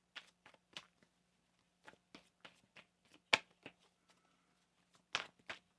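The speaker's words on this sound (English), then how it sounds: "Let's get one more shuffle." Quiet, close riffling and soft slaps of tarot cards being shuffled in short irregular bursts, separated by brief pauses.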